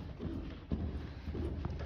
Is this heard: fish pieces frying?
no